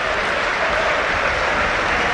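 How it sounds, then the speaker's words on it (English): A football crowd in the north stand at Ipswich Town applauding a player as he goes to take a corner, a dense, steady wash of distant clapping from a large stadium audience. "Young gets a round of applause from the north stand as he goes to get the ball"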